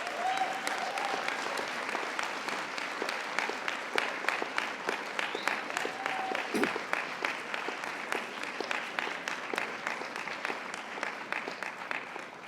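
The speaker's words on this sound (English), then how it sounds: "I would like you, graduates, to applaud the people who have helped you throughout" Friends and family in a graduation ceremony audience applaud steadily at a moderate distance, a broad hall-filling clatter of many hands that holds evenly for the whole stretch with scattered sharper individual claps.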